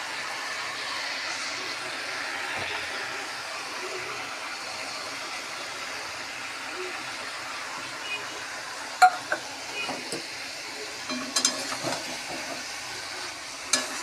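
Poppy seeds fry in a simmering curry of watermelon rind and water spinach stems. A steady, soft sizzle runs throughout, and a few light stirring clicks come near the end.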